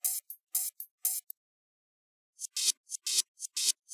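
Reversed hi-hat sample in a VST plugin, a series of short swelling hissy hits in two groups separated by a brief silence, bright and dry with no voices.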